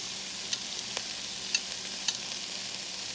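Green onions hitting a hot pan of pancit sotanghon, giving a soft steady sizzle with a few faint stirring clicks, quiet and without talk.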